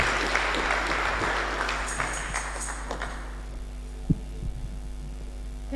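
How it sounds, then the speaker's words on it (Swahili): A church congregation at a Kikuyu Sunday service claps together, a dense patter of applause over a steady low hum that fades out midway, leaving the hum and a few stray knocks. "Tuwapigia makofi"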